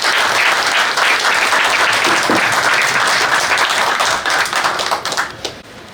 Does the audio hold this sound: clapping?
yes